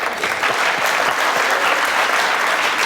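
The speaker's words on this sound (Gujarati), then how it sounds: "ક્યારેક ક્યારેક તાળીઓ એમ જ પણ વાગી જાય છે" Audience applause at a Gujarati televised courtroom-style interview show, a full burst of clapping from a studio crowd, loud and sustained for a few seconds with no speech.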